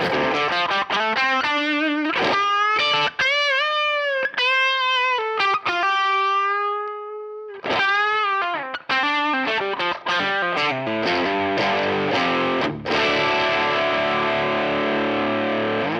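Electric guitar through an overdrive pedal with silicon and germanium gain stages plays sustained bent notes and slides with thick distortion, loud and continuous, ending on a crunchy ringing chord.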